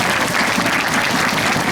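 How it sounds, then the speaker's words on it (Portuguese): An audience claps steadily to welcome speaker Júlio Semeghini at a São Paulo digital city event, a dense, even wash of many hands with no talk over it. "Recebam com a salva de palmas, Júlio Semeghini"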